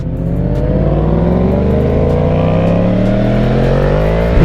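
Loud, close motorcycle engines, a Yamaha MT-10, Yamaha R1 and a 701, rev and accelerate together, their pitch climbing steadily with a rough throaty roar throughout.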